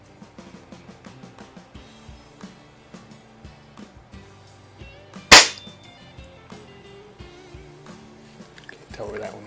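A single sharp air rifle shot, from a budget Crosman 3100 or a premium Feinwerkbau 124 springer, cracks out mid-clip amid quiet handling clicks and taps before and after.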